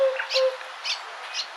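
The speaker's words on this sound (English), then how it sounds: "a resonant, rhythmic call that echoes through the savannas and woodlands of sub-Saharan Africa" An African cuckoo calling in sub-Saharan savanna woodland, three soft hooting notes spaced evenly at moderate distance, with a faint steady tone at the start.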